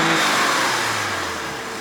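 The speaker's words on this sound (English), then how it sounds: "I'm gonna rev the car so you can hear it." A modified 2008 BMW 335 engine revs loudly and steadily, with a rattling noise, its roar easing slightly as the revs drop off toward the end.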